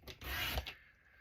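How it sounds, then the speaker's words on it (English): Cardstock cut down from an 8.5 by 11 sheet to 5 1/4 with a trimmer gives one short, close raspy slicing swipe lasting under a second, then near silence. "So this one I need to trim down to 5 1/4."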